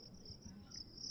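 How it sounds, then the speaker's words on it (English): Crickets chirping as a sound effect: a steady, high, continuous trill that runs unbroken and fairly faint over a soft low background hum. "Do you want me to bring the crickets back?"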